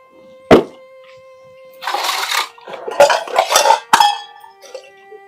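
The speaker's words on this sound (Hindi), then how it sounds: "पहले ये बर्तन धो लूं" Metal pots, pans and utensils being washed in a household, with a sharp clink near the start, then bursts of scrubbing and clattering dishware mixed with running water, close by, no talk.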